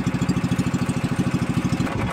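A boat engine idles nearby with a steady, loud, low chugging pulse, running on its own without talk, on a fishing boat in the West Philippine Sea.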